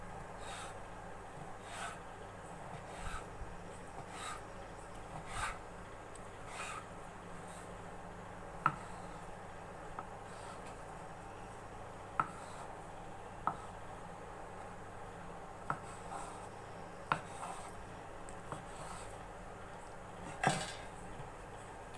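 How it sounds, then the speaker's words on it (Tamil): A knife cuts rolled Madakku sweet dough into small pieces, making faint, sharp taps against the board at irregular one-to-two-second intervals over a quiet background. "இப்போ வந்து நம்ம இதை சின்ன சின்ன பீஸாக கட் பண்ணிக்கலாம்."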